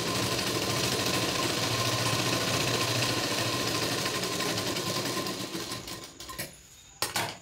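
A sewing machine stitches lace onto a boat neck blouse, running in a loud, steady, close mechanical whir that holds for about six seconds, then slows and stops, followed by a couple of brief handling clicks.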